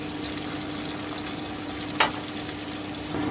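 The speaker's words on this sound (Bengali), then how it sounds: "আমি হালকা করে একটু ফ্রাই করে নেব খুব বেশি ভাজবো না" Katla fish pieces fry lightly in hot oil in a pan, a steady soft sizzle running throughout with a brief sharp clatter of a spoon near the middle.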